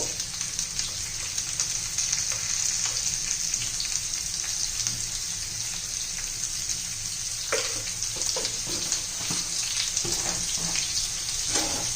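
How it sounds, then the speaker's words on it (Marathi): Spinach and carrot sizzle in oil in a pan, a steady close hiss of frying that runs throughout, with a few scraping knocks of a spatula toward the end and no voices. "चांगलं एखादा मिनिटभर आपण चांगलं परतून घेऊया गाजर हे"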